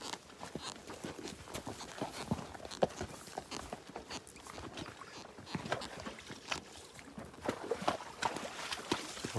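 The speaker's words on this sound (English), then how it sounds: "I'm sure the horses want to drink." Horse hooves clip-clop on a virtual horse safari, a steady run of irregular thuds and scuffs moving at a walking pace against a dense, noisy background, with no clear voices.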